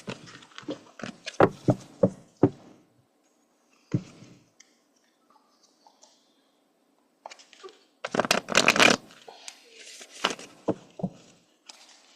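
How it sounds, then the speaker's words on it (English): Tarot cards being shuffled and flipped on a table: bursts of quick riffling and snapping card sounds, a pause with a few soft isolated taps, then a louder dense shuffle followed by scattered flips, close up. "Got some cards flipping here."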